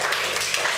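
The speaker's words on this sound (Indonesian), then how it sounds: "Kita berikan tepuk tangan sekali lagi untuk kelompok" Brief burst of classroom applause for a student group, many hands clapping densely and steadily, fairly close, with no talk over it.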